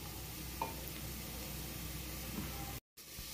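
Onions frying in a pan until golden brown for a vegetable pulao, a steady close sizzle with a couple of faint clicks of a utensil, and a brief drop to near silence just before the end.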